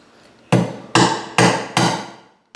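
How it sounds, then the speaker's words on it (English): Four quick, loud hammer strikes land in a steady rhythm close up, each with a short metallic ring, as a bent nail is straightened, then a fifth blow begins at the very end. "If a nail has been bent, straighten it with your hammer."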